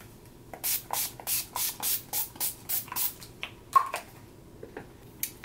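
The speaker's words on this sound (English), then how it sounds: "I'm gonna spray my face again with my Urban Decay makeup setting spray" A rapid series of about ten short hissing bursts of makeup setting spray onto a face in steady rhythm, close by, then a pause and a couple more spritzes.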